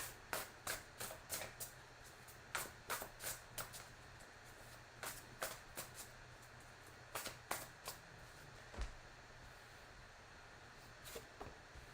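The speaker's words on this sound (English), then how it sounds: "I'm going to shuffle again." Tarot cards being shuffled by hand, a run of crisp riffling bursts in quick succession with short pauses between, close and fairly quiet in an otherwise still room.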